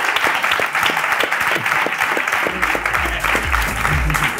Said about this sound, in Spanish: Eso se merece el aplauso, yo creo